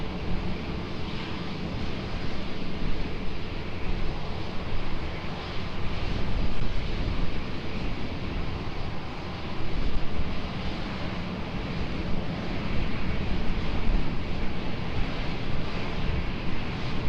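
Fixed-wing aircraft taking off at Lisbon Airport, a broad steady jet roar with wind buffeting the microphone, swelling slightly in waves over the whole stretch.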